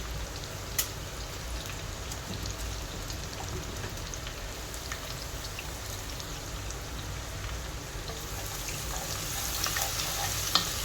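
Sliced onion fries with ginger garlic paste for an egg dum biryani, a steady, even sizzle close up with an occasional sharp tap of a utensil and no voices.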